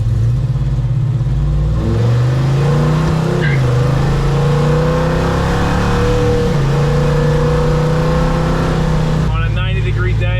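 A 1971 Chevelle with rust holes and no air conditioning cruises along. The engine runs steadily close by, with its pitch rising and falling as it accelerates and shifts. The engine stays prominent throughout the drive, and no one talks over it.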